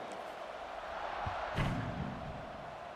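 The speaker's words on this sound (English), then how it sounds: "this crowd now ready to get behind them" Stadium crowd at a college football kickoff makes a faint, steady distant murmur with a brief swell and thump midway, heard without talk.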